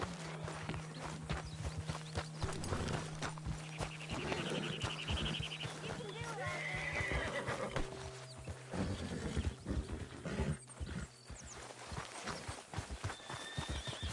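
In Red Dead Redemption 2, horse hooves clop and a horse whinnies amid a game scene with a low engine-like drone, footsteps, and characters talking over the top throughout.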